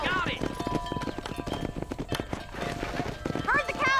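Horse hooves clip-clop steadily while cattle are herded in the Red Dead Redemption video game, close and rhythmic, with neighs and whinnies and overlapping talk.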